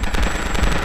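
Gunfire in the shooting game Prohibition 1930: a rapid, loud burst of automatic shots rattling through a dense mix of game sound, over in under a second.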